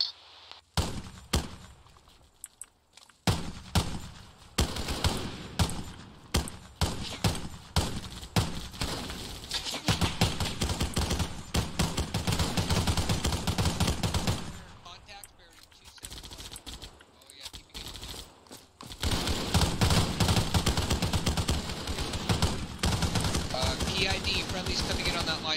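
Gunfire in a Halo-themed ARMA 3 firefight snaps in irregular bursts and single shots, sometimes near and sometimes sustained, with voices talking over parts of it.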